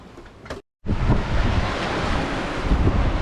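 A sailboat running fast through open sea in around 20 knots of wind, with loud, continuous wind buffeting the microphone and waves rushing past the hull, cut by a brief dropout near the start.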